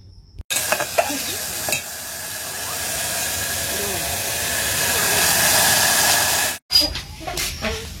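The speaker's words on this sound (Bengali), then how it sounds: "এবার ডালটা একটুখানি ভেজে নিয়ে" Lentils and ridge gourd frying in a pan give a strong, continuous sizzling hiss that swells slightly and holds for several seconds, then cuts off abruptly, followed by a few close clinks and scrapes.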